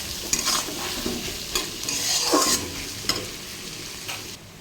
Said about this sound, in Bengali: দেখো পেঁয়াজগুলো লাল লাল হয়ে আসছে